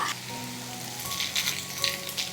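Bun and milk mixture cooking in a pan, a steady close sizzle with soft scraping as it is stirred, no voices.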